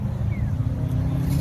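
A Ford Mustang GT500 at a car event gives a deep, steady low engine rumble up close, holding a constant throbbing idle-like drone throughout.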